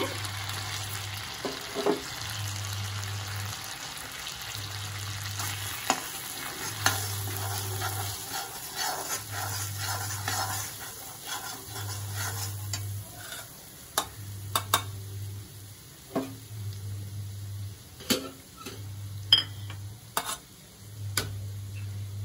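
Kashmiri chili sizzles in hot oil in a pan under steady, close frying crackle, with repeated scraping stirs and scattered sharp ticks over a pulsing low background hum.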